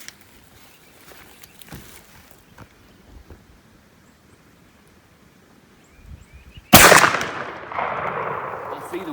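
A 10 gauge shotgun loaded with 18 pellets of double aught buckshot over a fiber cushion wad fires once outdoors, a single loud sharp blast after several quiet seconds, followed by a lingering rumble and echo.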